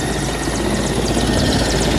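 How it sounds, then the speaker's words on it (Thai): A helicopter revs up for takeoff, its engine a loud, close, dense roar with rapid rhythmic rotor chopping that stays constant throughout. "มาแล้วครับเร่งเครื่องแล้วเร่งเครื่องแล้วครับ"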